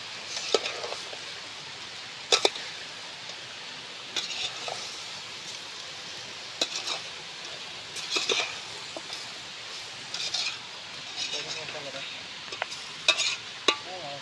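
Chicken gravy being stirred in a frying pan, a steady sizzle broken by irregular scraping spoon strokes, close and fairly quiet with no talking.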